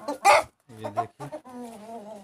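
Desi Aseel cross hens clucking nearby in short bursts, with a longer drawn-out cluck at the end; no talking.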